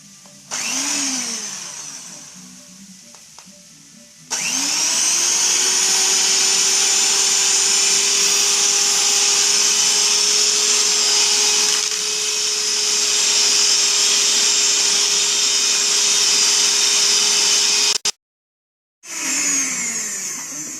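An electric mixer beats eggs and sugar for cupcake batter with a loud, steady whirring drone that starts abruptly, runs continuously, then cuts out briefly near the end before resuming.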